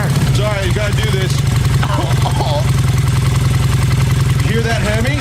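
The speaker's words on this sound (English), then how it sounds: "I'm going to pull out with my motorcycle and then peel out." A motorcycle engine rumbles loudly and steadily throughout, pulling out and peeling out, with excited voices chattering over the engine noise.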